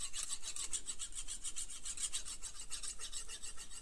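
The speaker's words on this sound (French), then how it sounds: "on va polir vraiment le tranchant de la lame" Knife blade edge being polished with a Lansky guided sharpening kit, a close, continuous raspy rubbing of stone on steel in quick, regular back-and-forth strokes.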